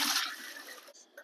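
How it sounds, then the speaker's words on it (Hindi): Clean water pours into a container for washing helmet padding, a brief splashing gush that fades within about a second, faint and with no talk. "अब इसमें हम भरेंगे साफ पानी"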